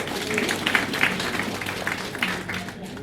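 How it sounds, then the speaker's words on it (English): At a hosted business event, an audience gives a round of applause, with a continuous wash of clapping and some crowd noise that may include voices. "Give him a round of applause."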